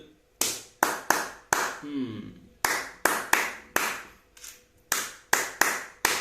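Hand claps beating out a litefeet rhythm, about a dozen sharp close claps in an uneven syncopated pattern, with a short bit of murmured voice between them.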